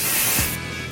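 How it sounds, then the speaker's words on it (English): A single short spray of hair product onto the ends of hair, a close hissing burst that cuts off abruptly, followed by quiet. "I just spray my ends as I go along usually."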